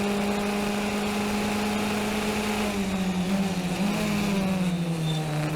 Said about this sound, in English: And the engine revs are really low.